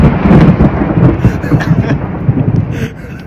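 Thunder rumbles through a drenching rainstorm during a horseback bear hunt, a loud, sustained low roll with rain hiss, fading near the end.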